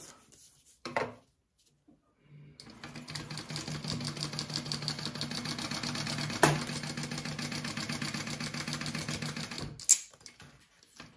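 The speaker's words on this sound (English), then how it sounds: "I'm going to sew this bottom piece again" A sewing machine stitches the bottom piece of a canvas wallet, running as one steady mechanical whir for several seconds after a few soft handling knocks, ending with a sharp click.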